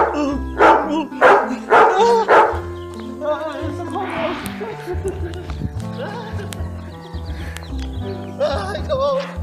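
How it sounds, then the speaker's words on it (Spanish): A ferocious dog barks in a comedy sketch, with several loud, close barks in quick succession at the start followed by a horse-like whinny and clip-clop sounds. "Ya hay un perro muy feroz abajo de usted."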